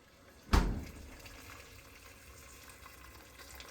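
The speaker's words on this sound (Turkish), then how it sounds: "sıcak suyumuzu ekliyoruz" Hot water poured into a cooking pot for mantı: one sudden splashing gush, then a softer lingering wash and bubbling that fades, close by, with no speech.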